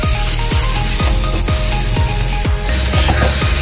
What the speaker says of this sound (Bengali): মশলা থেকে তেল ছেড়ে দিয়েছি, কিমা করে রাখা মটনটা দিয়ে দিয়েছি। মটনটা ভালো করে মশলার সাথে মিশিয়ে নেব।